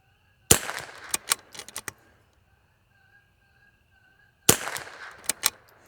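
Rifle shots from an L3I Stinger fitted with a Timney two-stage Pro trigger come as two loud, sharp bursts about four seconds apart. Each report is followed by brief echoes, and quiet gaps separate the bursts.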